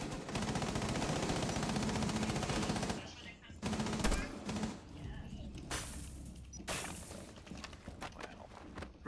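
Rapid automatic gunfire from the Rainbow Six Siege video game, sustained bursts broken by short gaps, with a player talking over the shooting.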